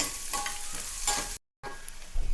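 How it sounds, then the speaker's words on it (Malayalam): Thin lengthwise-cut carrot slices sauté in hot ghee for a paneer biryani, giving a steady, close sizzle with stirring scrapes and one brief silent break. "ഇനി ഇതിൽ രണ്ട് ക്യാരറ്റാണ് ഞാൻ എടുത്തത് അത് നീളത്തിൽ കനം കുറച്ച് അരിഞ്ഞതാണ് അതുകൂടെ നെയ്യിലൊന്ന് വഴറ്റിയെടുക്കാം"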